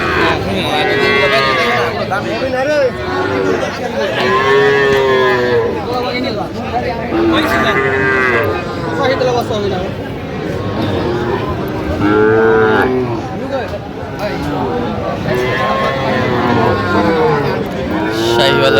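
Several Sahiwal bull calves moo repeatedly at a crowded cattle market, loud and close, with people chattering and bargaining throughout underneath the calls.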